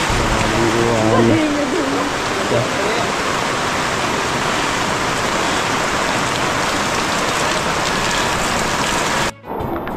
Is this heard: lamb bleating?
no